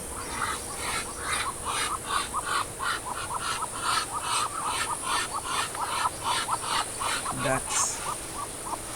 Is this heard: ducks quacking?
yes